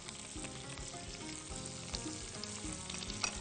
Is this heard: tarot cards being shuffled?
no